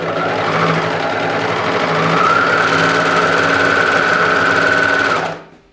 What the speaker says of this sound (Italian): Cucio tenendo sempre la piega a contatto con la guida.